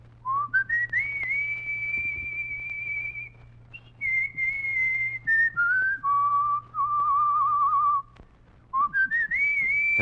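A person whistles a clear melodic tune alone, sustained notes rising and falling in phrases with short breaths between, close and fairly loud.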